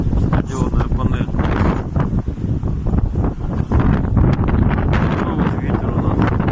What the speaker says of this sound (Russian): Ну вот ветер у нас.